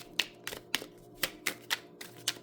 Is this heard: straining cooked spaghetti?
no